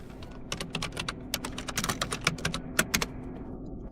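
Rapid, uneven bursts of computer keyboard keystrokes, close and fairly crisp, tapping in quick clusters for a few seconds with no voices.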